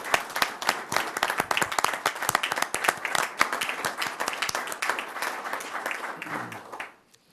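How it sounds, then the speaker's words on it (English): Audience applause at a Metro Fire board meeting, a dense, steady run of many hands clapping at close range for about seven seconds before stopping abruptly. "if we give them a big round of applause"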